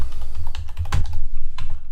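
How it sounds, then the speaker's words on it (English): Keys clatter in a quick run of typing on a computer keyboard while an entry is made in business accounting software, close and fairly loud, with no talking. "In here, I'm going to type investment"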